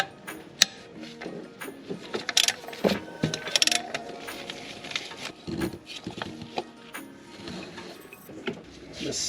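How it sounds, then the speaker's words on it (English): A 17mm socket on a ratchet works a part loose on a neglected luxury BMW SUV, giving irregular clicking, ticking and metallic knocks with uneven bursts and pauses, close to the microphone. "That is a 17mm socket I'm using"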